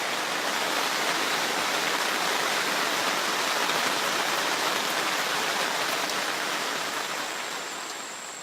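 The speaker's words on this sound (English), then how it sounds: "eventually the rain will stop, the sun will come out" Steady heavy rain drumming on a Coleman WeatherMaster 6-person tent, a dense, even hiss that holds loud and constant before easing slightly at the end, with no voices.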